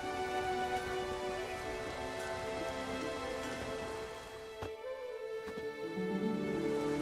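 Rain falls steadily in The Witcher 3, a continuous hiss of drops under game ambience and music that dips briefly partway through before swelling again.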